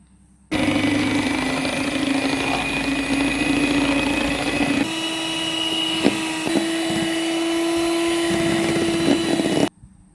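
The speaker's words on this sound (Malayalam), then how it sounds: "ഇനി ഒരു ബൗളിലേക്ക് നാല് മുട്ടയെടുത്ത് ഒരു ടീസ്പൂൺ വാനില എസൻസും ചേർത്ത് നല്ല പോലെ ബീറ്റ് ചെയ്തെടുക്കുക" An electric mixer beats four eggs with vanilla essence in a bowl, a steady close motor whine running for nearly ten seconds, with a slight shift in pitch midway and a few light knocks near the end.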